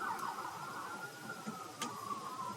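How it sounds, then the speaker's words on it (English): Emergency sirens wail outside as a faint, distant, sustained tone holding steady with a slight downward drift, heard alone under a low background hum. "I'm trying to talk over the damn sirens"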